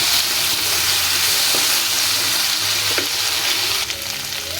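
Vegetables and flowers fry in a pan with a loud, steady sizzle, broken by a few sharp scrapes of stirring near the end and faint running water in the background; no voices.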